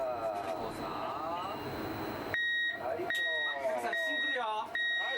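An emergency quake alert alarm sounds during a control-room drill: steady high electronic beeps in a repeating pattern, with people talking over them.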